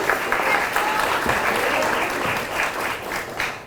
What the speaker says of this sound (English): Another round of applause for Q, please.